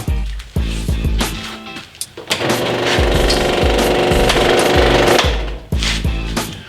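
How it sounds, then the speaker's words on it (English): A scroll saw cuts wooden dowels with a loud, rapid buzzing chatter that comes in bursts. The middle cut is long and steady, and short bursts come before and after it. "About to go cut those on the scroll saw."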